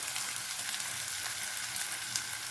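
Curry leaves, green chili and ginger sautéing in hot oil for rava appam batter, giving a steady, fairly faint crackling sizzle with scattered small pops and no talking.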